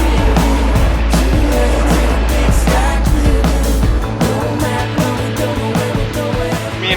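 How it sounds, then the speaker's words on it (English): A pickup truck drives along a road, its engine and tire roar loud and continuous, with a steady low drone that shifts pitch partway through. "Now we're hitting the road again"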